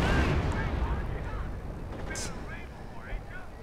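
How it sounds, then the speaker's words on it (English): Artillery fire from a 105 howitzer in the battle game Battle for Laya, with rumbling low booms and bursts layered over a busy battlefield din, plus short whistling tones and a sharp crack near the end. "Here comes the 105 howitzer."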